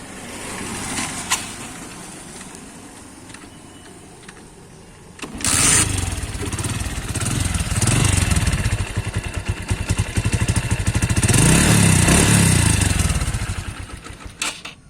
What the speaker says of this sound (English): I'll show you the exhaust note.